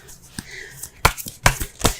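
Tarot cards being shuffled during a reading, a few crisp riffling bursts close by over quiet room tone.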